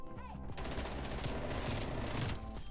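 Rapid hip-fire bursts from an FFAR assault rifle in a video game, loud and dense, a near-continuous stream of shots that keeps up for over two seconds before stopping abruptly.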